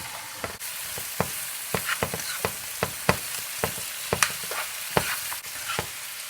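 Vegetables for a sautéed medley sizzle steadily in a hot pan, with a run of sharp clicks and taps from stirring spread across several seconds; no talking.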